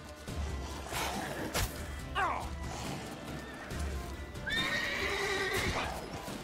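Horse in The Witcher 3 neighing in shrill whinnies over clip-clopping hooves, with sharp thuds of combat among faint game background noise.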